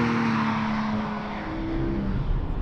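A Porsche Cayman GTS with its 4.0-litre engine and manual gearbox, giving a loud, steady drone with a slight shift in pitch partway through, heard close and on its own.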